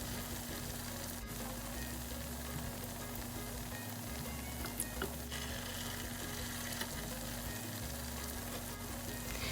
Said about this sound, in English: These churros take about 5 minutes to fry